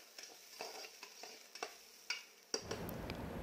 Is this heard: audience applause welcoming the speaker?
no